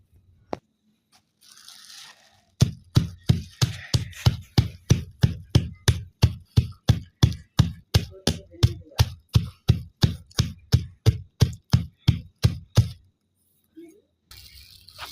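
Ingredients crushed on a shil-pata grinding stone with a steady run of about thirty sharp, rhythmic pounding knocks, close and loud, ending in quiet.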